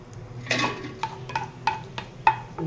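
Cardamom being stirred into melted jaggery and ghee in a metal pot: a spoon clinks and scrapes against the pot in a quick, irregular series of light taps, close and fairly quiet, with no talking.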